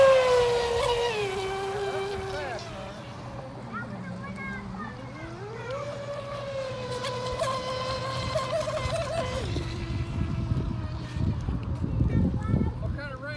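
A Proboat SonicWake 36 RC boat ripping across water with a whining electric motor that rises and falls in pitch as it speeds and turns, heard under people talking.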